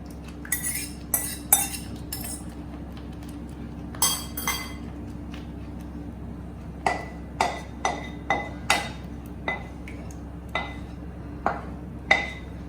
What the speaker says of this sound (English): Now once you add the yogurt, go on stirring.